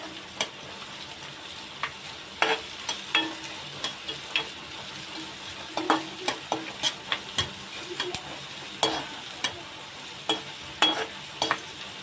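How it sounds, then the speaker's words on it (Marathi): Onion being sautéed in a pan until golden: a soft, continuous frying sizzle with a spatula scraping and knocking against the pan in frequent, uneven strokes, close up and with no talk. "कांदा जो आहे चांगला परतून घ्यायचा आहे एक सोनेरी रंग येईपर्यंत"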